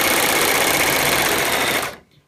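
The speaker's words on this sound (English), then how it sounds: "Drop the presser foot down, and let's see." A serger overlock sewing machine runs a test chain at a steady, loud whirring hum for about two seconds, then stops abruptly, leaving quiet.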